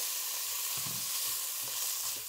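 Butternut squash being stirred together with chicken meatballs in a hot pan, a soft continuous sizzle with a few muffled scraping stirs, close and fairly quiet.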